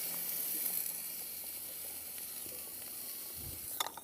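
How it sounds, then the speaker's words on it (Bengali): Steady hissing sizzle of pangasius fish fat as fish fries in a pan over a clay stove, a constant soft crackle throughout with a few faint clinks near the end. "চর্বি দিয়ে তুই মাছ ভাজি করবি"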